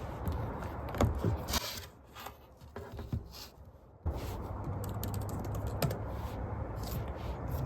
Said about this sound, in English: Some nice typing sounds.